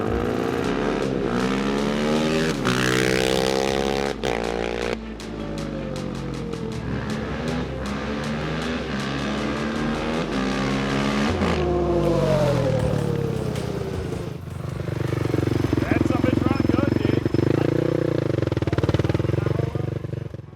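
Motorcycle engine pulled hard at full throttle in third gear, revving cleanly to the top with no bog or sputter; loud, close, rising pitch sweeps repeat through the run without speech.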